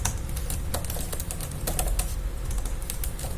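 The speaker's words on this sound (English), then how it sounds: "typing experience is good." Fingers type steadily on the red-backlit keyboard of an MSI GF63 Thin laptop, producing a dense run of light, quick key clicks, close and clear with no talking.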